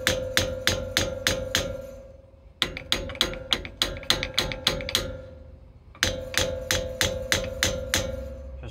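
Hammer blows striking a rusted brake part on a fifth-generation Ford Bronco, sharp metallic bangs in three quick bursts of rapid repeated strikes with brief pauses between, loud and close, no talking.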